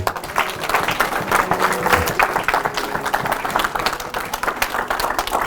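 A church congregation applauding, a steady, fairly loud wash of many hands clapping together that carries on without a break from start to finish.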